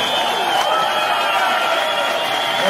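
A crowd at an evening gathering breaks into sustained applause and cheering, a dense, steady roar of clapping and voices that holds at full strength throughout.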